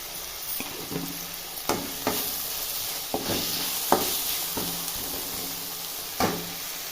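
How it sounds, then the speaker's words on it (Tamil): Chopped tomatoes and onions sauté in a hot pan, with a steady sizzle punctuated by repeated scraping strokes of a spoon stirring the mixture. The sound is close and unaccompanied by speech. "இப்போ தக்காளி வெங்காயமும் சேர்த்து நல்லா மசிஞ்சு வர்ற அளவுக்கு வதக்கணும்"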